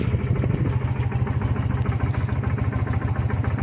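A Honda Shadow motorcycle idling after a start on a new battery, the engine giving a close, loud, even low-pitched thumping pulse with light mechanical clatter, running alone without voices.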